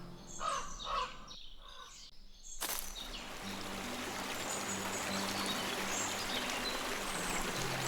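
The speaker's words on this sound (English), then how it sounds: "A river, which you can only hear when you get close to it." River ambience in a video game sets a steady, broad rushing flow of water that swells in after cawing crow calls, continuing loud and constant to the end.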